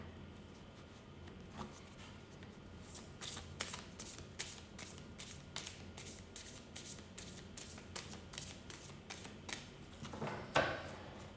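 A deck of tarot cards is shuffled close up: a quick series of crisp riffling bursts and soft card slaps in a quiet room, ending in a sharper snap near the end.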